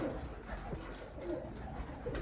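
A large-bodied pigeon at a Pakistani pigeon-fancier's loft gives a few soft, low coos, faint against a light background hum.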